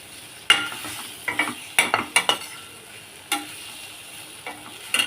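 Kara kozhukattai, spicy rice dumplings, being stirred in a pan over a soft frying sizzle, with a series of distinct scraping and clinking strokes of the spoon against the pan, close and alone.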